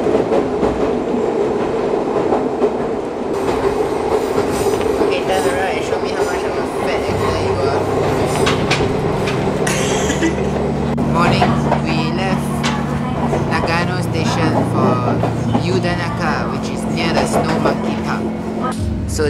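Train pulling into a station in Japan in winter, a loud rumbling roar with rail clatter and low grinding tones building midway, close by and continuous, with voices mixed in.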